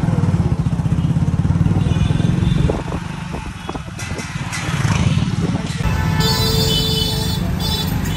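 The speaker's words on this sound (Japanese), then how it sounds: "ちょっと Uber のタクシー、まあ、バイクですね" A motorcycle taxi carries a rider through the streets of Varanasi, India, its engine droning steadily under road rumble and clatter, with a bright tone sounding near the end.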